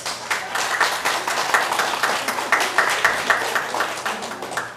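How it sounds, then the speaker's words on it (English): A reunion audience applauds its organizers with a steady round of dense, close clapping from a crowd that keeps an even rhythm throughout. "Let us give the organizers a big round of applause."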